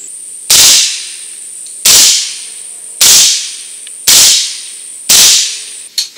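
Five suppressed shots from a Ruger Mini-14 tactical rifle in 300 AAC Blackout with 240 grain subsonic rounds, evenly spaced muted cracks about a second apart, each fading quickly, with a small click at the end.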